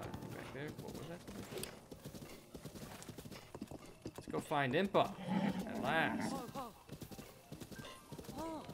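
Horse hooves clip-clopping in Breath of the Wild, a steady rhythmic beat running under continuous talk from a player, with a brief whinny-like burst partway through.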